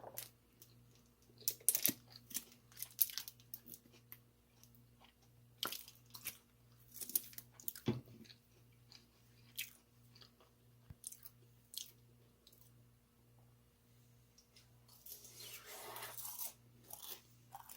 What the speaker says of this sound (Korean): 소스에 찍어 먹어볼게요